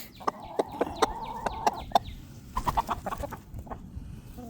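Chickens cluck in short, repeated bursts close by near their coop, a loud, uneven run of sharp calls with a brief pause midway.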